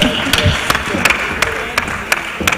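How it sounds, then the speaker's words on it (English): Clapping from a crowd at an employment summit in Lagos, with sharp, regular hand claps sounding over a murmur of voices and talk. "A round of applause for yourself"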